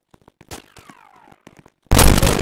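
Gunfire in the Roblox video game, with a string of sharp clicks and pops and a short sliding whistle, then a loud sustained burst of crackling shots at the end.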